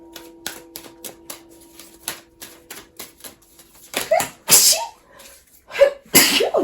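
Two loud, sharp sneezes come close together near the end, after a run of soft rhythmic clicking and tapping.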